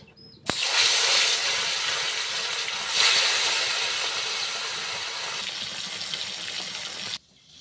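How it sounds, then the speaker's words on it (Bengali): Fish drops into hot mustard oil in a pan with a sudden loud hiss that settles into a strong, steady sizzle for several seconds, then cuts off sharply. "তেলটা ভালো করে গরম হয়ে গেছে এরপর আমি এই তেলের মধ্যে দিয়ে দিব মাছ"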